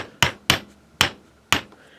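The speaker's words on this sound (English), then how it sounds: "you take your little jewelry hammer and you just kind of beat on it." A small jewelry hammer strikes wire to flatten and harden it for earrings, giving four sharp, close metallic taps at an uneven, slow rhythm with no talk.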